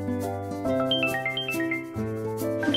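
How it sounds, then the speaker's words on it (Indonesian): A mobile phone ringtone plays a bright, steady electronic melody of stacked tones with short chime-like notes on top, loud and close, with a brief pause near the two-second mark before the tune resumes. "Telepon aku bunyi."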